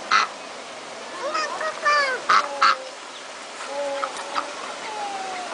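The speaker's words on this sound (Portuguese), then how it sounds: "Ó, o pato vai te pegar." Ducks in a park quacking and honking in several short bursts, fairly near, with a brief child's or adult's voice in the background between calls.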